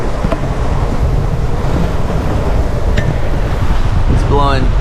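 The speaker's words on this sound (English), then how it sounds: "it's blowing 20 plus right now, some gusts, and sustained about maybe 18, 19 knots" Strong wind roars across a heeled sailboat in a Gulf Stream squall, with waves rushing against the hull, gusting at 20-plus knots; the blustery noise is steady and loud, and a brief voice-like tone rises near the end.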